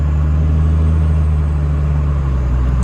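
Built 24-valve Cummins diesel in a second-generation truck, a steady, loud low-frequency engine drone with deep rumble while driving, no speech.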